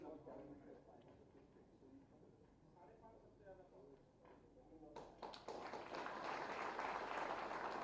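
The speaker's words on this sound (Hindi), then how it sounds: "आपकी तालियां साथ में चलती रहें।" Speech over a quiet background gives way to a swell of audience applause at a certificate distribution ceremony, growing louder and sustained in the final seconds.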